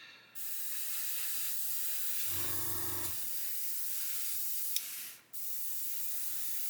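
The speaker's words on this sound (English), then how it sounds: "You really should be spraying this in a booth" An airbrush sprays paint onto a 1/24 Airfix Spitfire Mk.IXc model kit, giving a steady close hiss that runs almost continuously, briefly overlaid by a low buzzing tone, then cuts out and quickly resumes.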